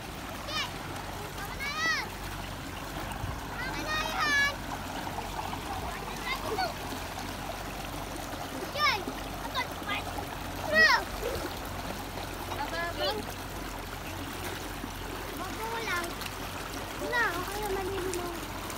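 Water flows and splashes in a shallow river in Laguna, a steady trickling wash heard under frequent talking and children's voices nearby.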